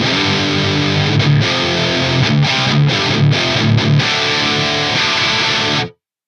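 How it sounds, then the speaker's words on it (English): An electric guitar plays chunky palm-muted riffs with sustained chords through a high-gain rectifier amp model on an Axe Fx III, then cuts to silence at the end. "So a pretty filthy, chunky rectifier kind of tone."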